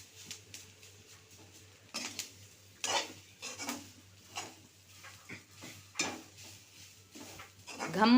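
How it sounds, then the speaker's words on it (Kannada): Chopped masala fries in a tempering for a raw jackfruit stir-fry, stirred in a pan; sharp metal scrapes and clinks come in uneven bursts over a faint sizzle, close by. "ಕಡಿದಿಟ್ಟ ಮಸಾಲೆಯನ್ನು ಒಗ್ಗರಣೆಗೆ ಹಾಕಿ ಚೆನ್ನಾಗಿ ಹುರಿಯಬೇಕು."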